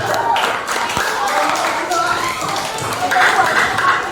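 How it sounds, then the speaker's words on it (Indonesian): Children clapping hands together in a classroom, a short burst of mixed claps beneath voices and room chatter, fairly close and moderately loud. "Tepuk tangan"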